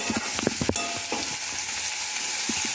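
Aubergine bharit mixture with spring onion and green garlic stirred and fried in a pan, giving a steady close sizzle with a few soft spoon scrapes and knocks against the pan.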